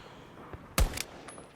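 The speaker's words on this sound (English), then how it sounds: "I'm just trying to shoot the turret here, but it's not having any of it" A single short burst of gunfire aimed at a turret in the video game Battlefield 2042, a sharp close crack with a brief tail, followed by faint scattered battle noise.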